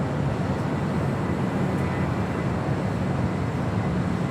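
A Sun Country Airlines Boeing 737-800, Flight 428 bound for Minneapolis, rumbles at LAX with a steady, loud, broadband jet roar that holds level throughout, no voices present.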